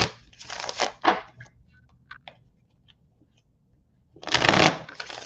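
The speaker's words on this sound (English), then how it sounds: "I am shuffling the cards first just so I can roll with it." Tarot cards being shuffled by hand, two quick riffling bursts near the start, a few faint taps and flicks in a quiet pause, then another loud shuffle at the end.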